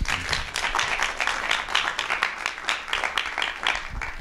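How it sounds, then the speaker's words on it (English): A TEDx audience at UAB applauds between speakers, dense and fairly loud clapping from a room full of people that holds steady throughout. "let's give another round of applause"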